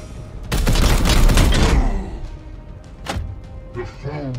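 Gunfire in the turn-based tactics game Warhammer 40,000: Chaos Gate - Daemonhunters: a loud burst of several rapid shots with a rumbling tail, followed by a sharp single crack and quieter effects.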